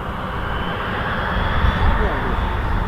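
A fixed-wing airliner rolls for takeoff on runway 05 at Toronto Pearson airport, a steady, broadband engine roar that swells slightly toward the end, heard from a distance with a faint voice underneath.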